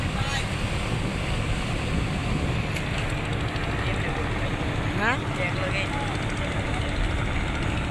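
Steady wind and water rush on an open river, with the low rumble of two approaching passenger launches, including the M.V. Jamal-4 and M.V. Bogdadia, racing to berth at Eid; someone talks over it.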